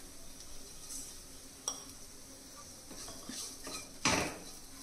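Spices being mixed with chaat masala in a bowl for a radish-leaf bhurji, quiet spoon clinks and scrapes against the dish, with a sharper clatter near the end.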